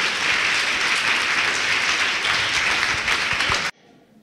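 A church congregation at a Christian worship service breaks into dense, loud, steady applause for Jesus, with many hands clapping together, before the sound cuts off abruptly near the end.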